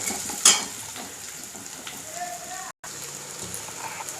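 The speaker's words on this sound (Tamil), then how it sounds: "இப்போ நம்ம தண்ணி ஊற்றுறோம்." Water poured into a hot pan where millet has been sautéed for upma, a soft steady hiss and sizzle with a short sharp burst near the start, fairly quiet and alone.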